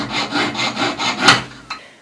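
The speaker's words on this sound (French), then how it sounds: "Je passe la lame de scie dans la fente pour que la fente soit bien droite" Saw blade drawn back and forth through a slot in metal being readied for gold soldering, about six steady rasping strokes at close range, then a sharper stroke and a small click.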